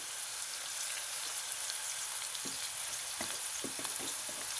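Cumin seeds tossed into a pan of onions sautéing until softened, giving a steady broadband frying sizzle with a few small crackles and pops partway through, fairly quiet and with no talking.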